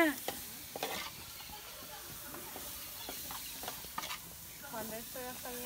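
Chicken and vegetables sauté in a pan, a steady close sizzle broken by scraping stirs of a utensil against the pan and faint background voices.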